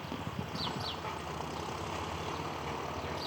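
A steady low engine rumble of a John Deere 5065E tractor, a 65-horsepower turbocharged three-cylinder, runs throughout while plowing, with a faint high chirp or two near the start, heard from a moderate distance.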